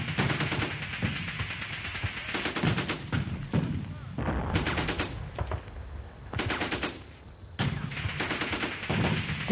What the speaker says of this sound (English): Move on the Bren covering fire!